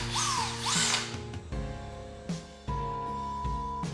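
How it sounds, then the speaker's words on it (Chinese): An electric drill whirs steadily while spinning a mixer bent from a wire coat hanger in a can of tile paint. The motor stops and restarts in short bursts, close and loud, with no talking. "那我用衣架简单折了一个搅拌器，把它装在电钻上面"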